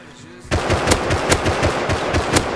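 Rapid video game gunfire erupts abruptly and keeps going as a loud, steady burst of close shots, with a voice faintly under it.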